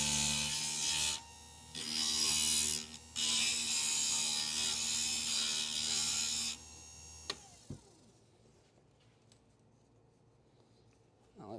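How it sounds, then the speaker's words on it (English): An electric glass grinder works down the edge of a cut stained glass piece in three loud, high whining bursts with short pauses between, then cuts off, leaving quiet clicks and handling of the glass. "We're going to grind that down, and then we're going to see if it kind of fits in there."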